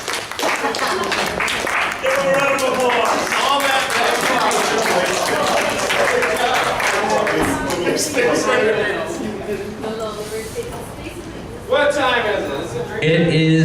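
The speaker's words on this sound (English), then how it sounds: "Give them a round of applause." A crowd at a lively happy hour gathering claps and cheers for winners, with dense, sustained applause mixed with loud chatter and shouting voices throughout.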